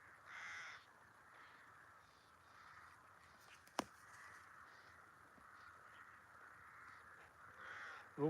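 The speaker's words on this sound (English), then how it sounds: "can hear a lot of birds downriver." Crows caw by a river on the Norfolk Broads at dusk, a few faint, distant calls spread across a quiet background with one sharp tap partway through.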